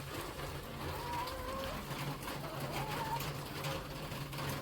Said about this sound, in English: Freaking metal roof rain.